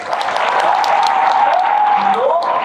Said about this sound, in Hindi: अपने लिए तालियां हो जाए यार।